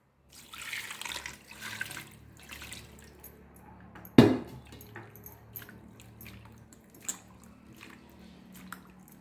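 Water poured over freshly churned homemade butter to wash it, a steady running splash with wet squishing, broken by one sharp clunk midway, then quieter trickling and drips.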